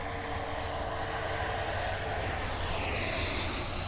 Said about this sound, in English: Gotta love this jet. Give you guys a touch and go.